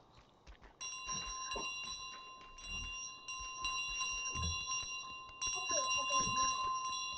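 A bell ringing in Untitled Goose Game, sounding as repeated bright, sustained metallic rings that layer into a continuous chime, with soft waddling footsteps and game sounds beneath, and no talk.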